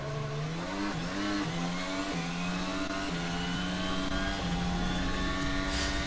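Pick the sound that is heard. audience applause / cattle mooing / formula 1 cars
formula 1 cars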